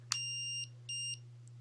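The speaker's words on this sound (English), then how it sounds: "the beeping you can turn off" Two electronic beeps from a Contour ROAM2 action camera, each a steady high tone lasting about half a second, separated by a short pause, over a low constant hum.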